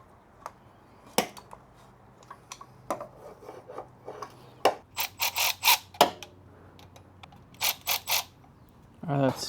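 An electric ratchet loosens bolts on a project car, giving a series of short mechanical bursts of clicking and whirring spaced irregularly through the clip, close and fairly clear, with light handling noise between them.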